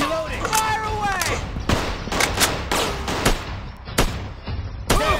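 Gunfire in a shooter video game, sharp shots cracking in irregular bursts close and loud, with game voices and effects mixed around them.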